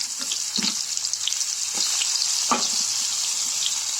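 Chopped onions frying in hot oil give a steady, bright hiss that runs the whole time, with occasional soft stirring knocks in the pan, close and fairly loud, no talking.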